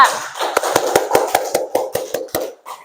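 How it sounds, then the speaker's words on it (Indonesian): A small group of students in a classroom claps for a student group, about a dozen distinct, close claps in a loose rhythm, tapering off toward the end. "Beri tepuk tangan untuk kelompok 2."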